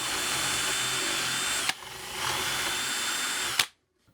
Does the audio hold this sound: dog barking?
no